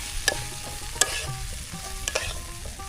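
Freshly gathered water lily stalks fry in a pan over an outdoor village fire, giving a close, continuous sizzle broken by a few sharp stirring clicks, with no voices.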